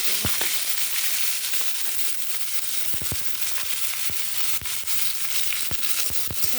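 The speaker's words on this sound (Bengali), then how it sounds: "পেঁয়াজটা একটু ভেজে নিই।" Chopped onion frying in hot oil in a pan, with bay leaves, for an egg curry: a steady broadband sizzle throughout, with scattered sharp pops and crackles, close and fairly loud, no voices.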